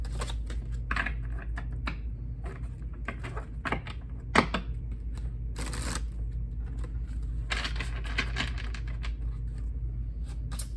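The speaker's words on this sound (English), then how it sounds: "I want to make sure they're shuffled really, really well" Tarot card decks shuffled at length, an uneven patter of light clicks and flutters with a sharper snap partway through, all over a low steady hum.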